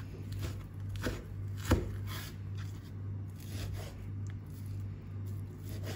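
Knife chopping food on a cutting board for lavash wraps, a run of quick, close taps and scrapes with one sharper hit near the start, over a steady low kitchen hum and no talking.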